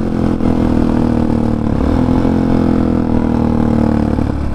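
A motard motorcycle at cruising speed, around 90 on a long road trip, gives a steady, loud engine drone with rushing wind. It is close and continuous, with no talking.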